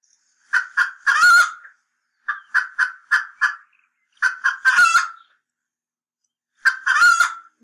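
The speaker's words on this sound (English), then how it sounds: "A chicken." Chicken clucking heard up close, bursts of short sharp clucks rising into a drawn-out squawk, repeated four times with quiet pauses between and no talk.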